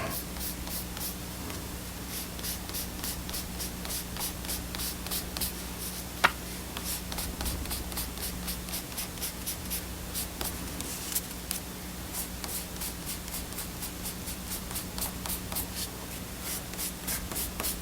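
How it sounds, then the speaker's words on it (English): An eraser rubs out pencil marks on paper in quick, regular back-and-forth strokes, a close, dry scrubbing rhythm that continues steadily with a few sharper taps. "Going to erase my pencil marks"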